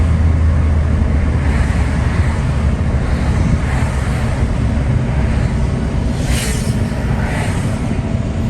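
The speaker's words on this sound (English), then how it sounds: "The wind's picking up now." Strong gusting wind roars steadily into the microphone outdoors during lawn mowing, a dense continuous rush with low buffeting and no pauses.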